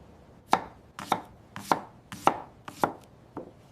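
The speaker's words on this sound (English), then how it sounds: "I chop" Knife chopping onions on a board, six crisp, evenly spaced chops about half a second apart, close and clear with no voices.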